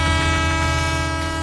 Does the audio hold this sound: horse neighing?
no